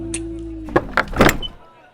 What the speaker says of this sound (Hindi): तभी स्टेयर्स का दरवाजा खुला और अथर्व का सर दिखाई दिया।